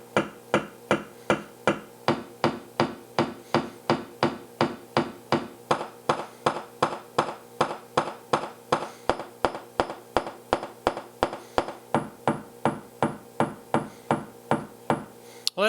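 Frequency Central Seismograf eurorack bass drum module firing a steady stream of short, punchy synthesized kicks, about three per second, each with a sharp attack and quick decay, varying slightly in tone, close and dry.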